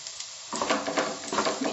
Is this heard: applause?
no